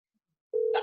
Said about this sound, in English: that's the lines ringing